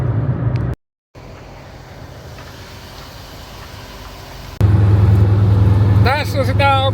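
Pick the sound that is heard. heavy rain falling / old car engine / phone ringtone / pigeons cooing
old car engine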